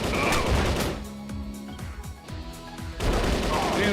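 Rapid bursts of machine gun fire from a first-person shooter, loud and close with sharp clusters of shots separated by short gaps, framed by heavier blasts at the start and end.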